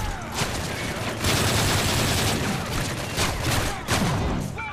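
Sustained gunfire in Call of Duty Modern Warfare 3's Chaos Mode aimed at a Juggernaut, a loud continuous barrage of shots and booms filling the whole stretch with dense, overlapping bursts.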